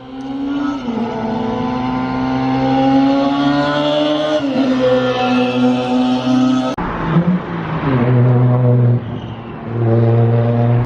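Modified Toyota Mark II with a wide body and a loud aftermarket exhaust, engine droning and revving with shifting pitch, then hissing and revving harder in close, continuous bursts.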